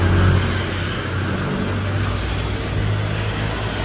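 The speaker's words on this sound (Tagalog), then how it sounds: "Daming kotse." Many cars go by near an auto shop on a busy Saturday, making a continuous low rumble of engines and passing traffic with no talk.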